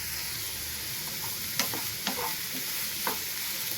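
Onion, green chili and garlic sautéing in a pan, a steady close sizzle with a few brief stirring scrapes and no voices.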